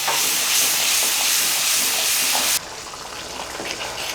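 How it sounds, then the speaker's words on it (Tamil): Steady, loud hissing and bubbling of a pan simmering on the stove, dropping abruptly to a softer sizzle partway through. "இப்போ இது நல்லா கொதிச்சிட்ருக்கு."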